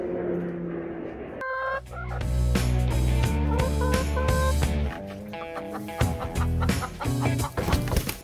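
Chickens cluck around a pile of hay in a backyard coop and garden. The calls are steady and close, mixed with sustained tonal sounds, and grow louder after the first couple of seconds.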